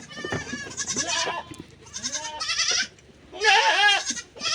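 Several goats bleat loudly and close by inside a shed, their wavering calls overlapping in quick succession with brief gaps between.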